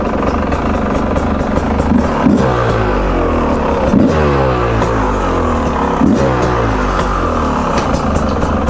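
A Beta RR 300 motorcycle engine runs loud and close, its pitch rising and falling as it revs up several times in a steady, throaty roar.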